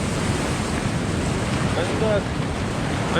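Rough, choppy sea waves surge steadily near a boat at sea on a fishing outing, with heavy wind buffeting the microphone throughout.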